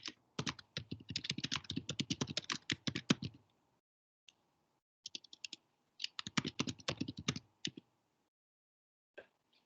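Quick bursts of typing on a computer keyboard, close and clear, with rapid key clicks broken by short pauses and silent gaps.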